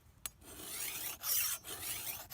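Hand file rasping along a machete blade, a few short scraping strokes with brief pauses between them, close and fairly quiet with no one talking.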